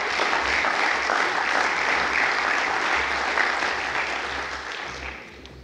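An audience at a conference event applauds with dense, sustained clapping filling the room, steady for several seconds before fading slightly at the end.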